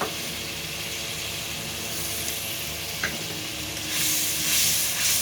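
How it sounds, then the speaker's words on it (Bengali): A thick paste of ground ginger and chili sizzles and hisses in hot oil in a pan, frying steadily up close with a soft scrape of stirring partway through and a louder crackle near the end. "আদা বাটা আর লঙ্কা বাটা দিয়ে খুব ভালোভাবে নাড়িয়ে দেবো"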